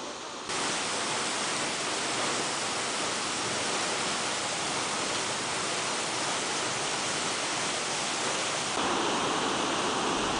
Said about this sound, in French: Dans ces montagnes coulent les chutes d'Agua Azul